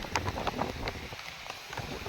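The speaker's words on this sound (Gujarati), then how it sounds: "વરસાદે ચાલુ થઈ ગયો છે" Steady rain patters on surfaces nearby, a soft continuous hiss with scattered drops and no one speaking.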